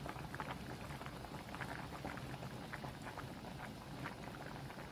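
Pork steak frying in heated oil for a Filipino beef-style bistek dish, a steady dense crackle and patter of spitting oil throughout, close and fairly quiet, with no talking.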